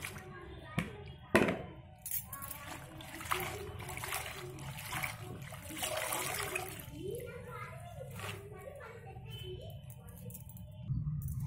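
Gongura (sorrel) leaves being washed in water while cooking a tangy gongura-and-brinjal curry: splashes, sloshing and trickling close by, with voices talking over and between the water sounds.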